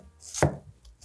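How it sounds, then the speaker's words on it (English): A single knife chop through cucumbers onto a cutting board, one crisp close thud standing alone in a quiet kitchen. "We could take these, we could push them all here, and I can chop down on them."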